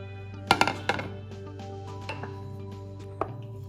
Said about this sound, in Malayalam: കുക്കറിൽ വേവിച്ച് ഉടച്ചു വെച്ചിരിക്കുന്ന മത്തങ്ങ ഇതിലേക്ക് ചേർക്കാം.